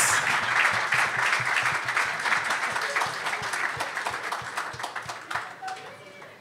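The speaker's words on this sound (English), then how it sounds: "Oh, round of applause" A crowd applauds a prize winner at a cricket launch event, dense sustained clapping that holds steady and then slowly thins out, with little talk over it.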